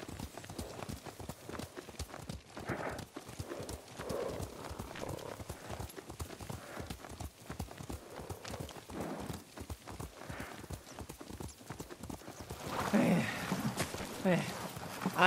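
Horse hooves clip-clop in a steady rhythmic gait while riding in the video game Ghost of Tsushima, continuing under game dialogue and ambience. A brief whinny-like burst comes near the end.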